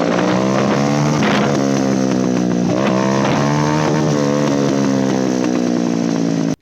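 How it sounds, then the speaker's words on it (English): A Honda Grom motorcycle with an IXIL full system exhaust, DB killer removed, revs up and down loudly, its raspy note rising and falling several times, with crackling pops between revs. "It sounds insane, it pops and it shoots flames"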